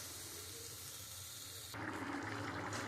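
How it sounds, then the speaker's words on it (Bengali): Water poured into a pot of mutton and lentil curry partway through cooking, a steady rushing pour that starts abruptly and grows louder, close and alone with no talk. "এবার আমি পরিমাণ মতন জল দিয়ে দেবো।"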